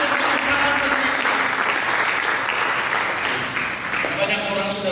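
A church congregation claps for Jesus during a sermon, a full, steady round of applause with voices and some tonal sound, likely music or singing, running underneath and fading slightly near the end.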